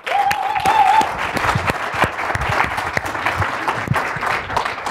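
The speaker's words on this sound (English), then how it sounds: "But let's give her a round of applause, you guys." A round of applause for a speaker at an Ignite event, dense steady clapping from a gathered audience lasting about five seconds, fairly loud and unbroken, with a brief whistle near the start.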